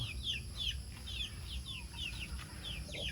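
Chickens at a rural hut call in quick, high, chirping clucks, repeated steadily and fairly faint over a low background rumble.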